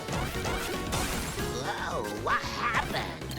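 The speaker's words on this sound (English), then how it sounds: "And over here we have a good friend, Bubba Duck." Bubba Duck, a caveduck character in the video game DuckTales: Remastered, gives a run of warbling, pitch-bending quacks amid crashing and whacking game effects and music.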